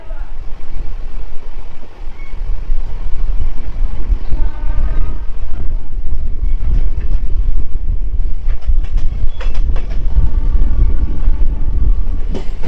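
A special sleeper train rumbles steadily along the rails, loud and close, with rhythmic clacking and mechanical rattle while people talk under the noise.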